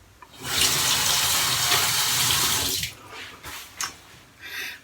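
Tap water runs hard into a sink for about two seconds while a razor is rinsed between passes during a shave, then gives way to a few short splashes and knocks.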